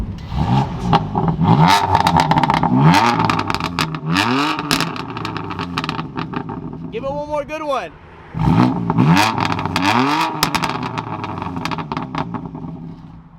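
A 2017 BMW M3 F80 Competition on its stock exhaust revs repeatedly up and down, loud and close, with a short pause and a voice speaking before the revving resumes.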